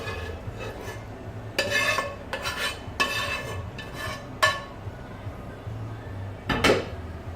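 A spoon scrapes and clinks against a lasagne dish while beef mince is pushed and spread in layers, giving several sharp metallic knocks and soft scraping strokes up close, with a quiet hum underneath.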